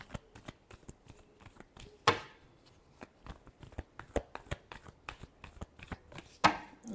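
Tarot cards shuffled by hand in a steady run of crisp riffling flicks and soft slaps, with two louder bursts where the deck is bridged or cut, close up and with no voice over it.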